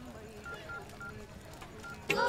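A telephone is dialed quietly under faint background sound, with a brief louder tone at the very end.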